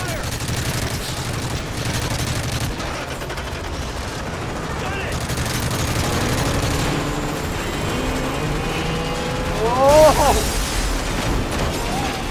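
Sustained gunfire in Call of Duty: Modern Warfare 3 during a street chase mission, a dense rattle of shots with scattered bursts and a louder pop near the end, under speech.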